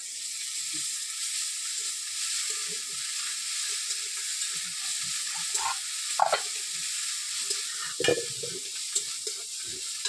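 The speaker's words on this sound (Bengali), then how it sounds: "ভালো করে নেড়ে চেড়ে লাল লাল করে আদা রসুনটা দিয়ে দেবো" Prawns being stirred and fried with ginger and garlic in a pan, a continuous sizzle with scraping stir strokes and a few sharper clatters near the end, close and unaccompanied by talk.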